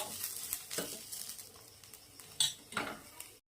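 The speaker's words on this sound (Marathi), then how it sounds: "यामध्ये दोन चम्मच पांढरे तीळ आहे पोहे खाच्या चम्मचने छोट्या चम्मचने याला पण असं छान असं भाजून घ्यायचं" White sesame seeds dry-roasting in a pan, stirred with a small spoon, giving light scraping clinks and taps against the metal. The sounds come in a loose rhythm at close range, with no voices.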